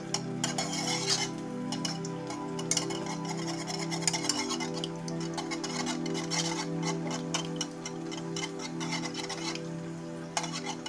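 Broken eggs being mixed with cooked tomatoes in a pan over medium heat, a steady scraping and stirring of a utensil against the pan with quick rhythmic strokes, close and continuous under a low hum.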